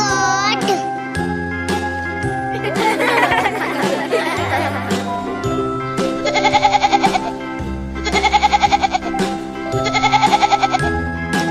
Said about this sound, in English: G for goat. G for goat.